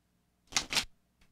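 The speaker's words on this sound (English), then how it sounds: "I'm going to shuffle." A deck of playing cards is shuffled in two quick riffling bursts close by, followed by a faint brief flutter, with no talking.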